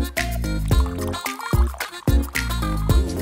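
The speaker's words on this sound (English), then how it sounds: "And now that the water's boiling, pour some of that on." Boiling water from a kettle is poured onto beef mince in a mug, making close, gurgling, splashing bursts of liquid with brief pauses between pours.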